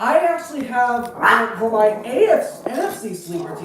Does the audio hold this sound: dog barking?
yes